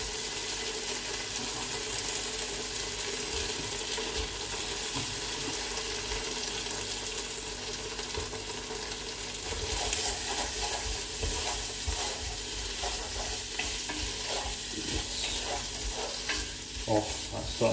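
Red pepper frying in a hot pan for chicken tikka, a loud continuous sizzle up close with scraping stir strokes growing busier partway through.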